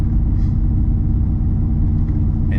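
A Lexus IS F driving over a rough, torn-up road, heard from inside the cabin as a loud, constant low rumble of road and engine noise with faint rattles, steady throughout.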